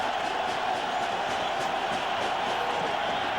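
A stadium crowd at a 1999 NFL game between Miami and New England sends up a steady, broad roar that fills the whole stretch without letting up.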